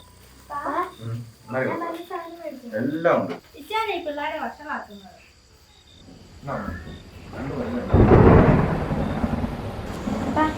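Rain with thunder during a power cut at home, heard as a low rumble and a swelling rush of rain toward the end, with people chatting over it earlier.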